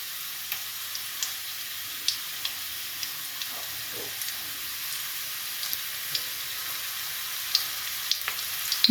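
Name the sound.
frying chopped garlic and onion in a pan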